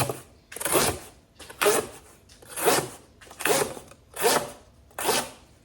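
A Civivi Qubit pocket knife slicing through cardboard in six evenly spaced, close, raspy strokes, each a short tearing scrape followed by a brief quiet gap.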